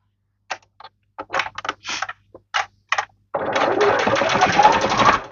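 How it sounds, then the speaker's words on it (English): A sewing machine stitches a fabric bow, starting with several short, stuttering bursts and then settling into a steady, continuous run, close and clear. "Now you're going to stitch this."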